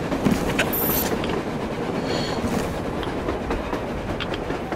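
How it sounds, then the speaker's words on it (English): A train rolls past on the surface in the video game Metro Exodus, a dense continuous rumble with clattering wheels and occasional metallic squeals, loud and sustained throughout with no talking. "A train! A damn train on the surface!"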